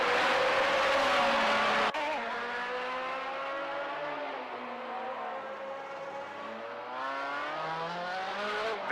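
1978 Formula 1 cars, a Brabham and two Lotuses, race at the Monaco Grand Prix. High-pitched engines scream and shift gears as they pass close by, with a sharp cut and varying pitch as the cars accelerate through the street circuit.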